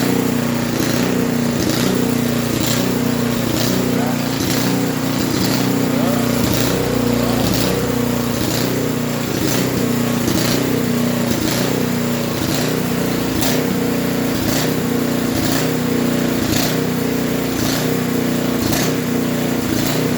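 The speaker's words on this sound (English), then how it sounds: "Start running kind of fugly and it'll die out" A snowblower engine running rough as it runs out of gas, a loud close continuous drone with a rapid pulsing beat throughout.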